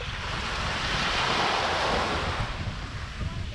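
Sea waves on Semi Beach, Koh Larn island, a continuous rushing surf with gusty wind noise on the microphone, steady and fairly close throughout.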